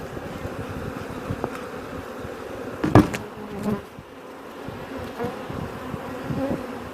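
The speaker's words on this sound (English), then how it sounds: "Look how many bees are all the way down there." A thick swarm of honey bees buzzes continuously at close range inside a very large hive colony during an inspection, with a sharp knock and a few scrapes and clicks punctuating the drone.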